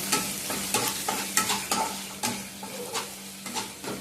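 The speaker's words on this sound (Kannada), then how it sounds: "ಇದು ಮನೆಯಲ್ಲಿ ಮಾಡಿದ ಶುಂಠಿ ಬೆಳ್ಳುಳ್ಳಿ ಪೇಸ್ಟ್ ಒಂದು ಸ್ಪೂನ್ ಅಷ್ಟು ಹಾಕ್ತೀನಿ" Homemade ginger, garlic and green chilli paste sizzles in a pan while a spoon stirs it, scraping the pan in a brisk rhythm of repeated strokes over the frying hiss.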